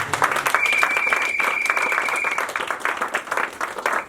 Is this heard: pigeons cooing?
no